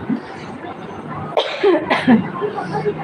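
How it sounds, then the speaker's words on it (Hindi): A few harsh coughs from a person sick with a cold and fever burst out in quick succession, close and fairly loud, with quiet room noise between them. "सर्दी बुखार पटका है तब से बहुत तबीयत खराब चल रहा भैया, खांसी बहुत आ रहा"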